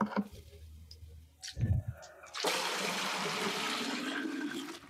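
Murky water poured out of a bucket, starting with a few splashes and sloshes, then a steady, fairly loud gushing pour that runs on to the end.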